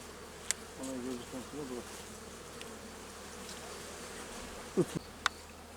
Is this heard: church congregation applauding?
no